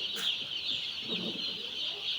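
Chickens cluck softly in a steady murmur inside a poultry shed, with a constant high hiss running underneath throughout.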